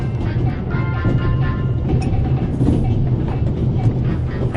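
Steady rumbling rail noise from a train in The Raven adventure game, a continuous low drone with faint clatter throughout, loud and unbroken.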